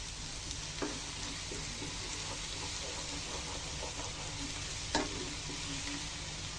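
Pickle is stirred and fried in mustard oil, a steady loud sizzle running throughout with two sharp scraping clinks of the spoon against the pan, no talking.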